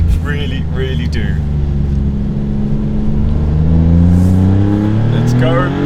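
A turbocharged Maserati Italian supercar accelerates hard, heard from close by. The loud engine note climbs steadily in pitch through the gears.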